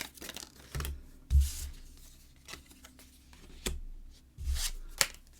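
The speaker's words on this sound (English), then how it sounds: "So pull a couple tarot cards with this." A tarot deck being handled as cards are pulled, giving several soft, papery shuffling slides and snaps spread irregularly over a few seconds, close and fairly quiet with no talking.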